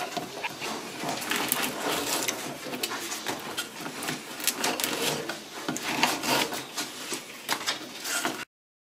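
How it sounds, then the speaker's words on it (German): A knife sawing through a loaf of homemade bread, heard close as a steady rasping scrape of repeated strokes for about eight seconds, with no talk. "kein anderer kann so gutes Brot schneiden wie Mom"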